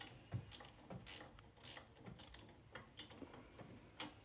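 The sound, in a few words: open end ratchet unbolting sway bar end link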